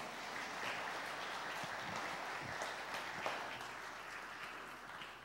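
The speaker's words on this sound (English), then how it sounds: "You can applause" A worship-service congregation applauds, a dense, steady wash of clapping from many hands that holds at an even level throughout, moderately distant and without any talking.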